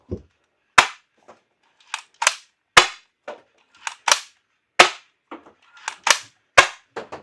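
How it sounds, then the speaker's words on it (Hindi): A toy shotgun loaded with water bullets and soft bullets fires repeatedly outdoors, sharp loud pops spaced about a second apart, each with a short tail, some fainter clicks between. "यहाँ से अभी मैं फायर करता हूँ"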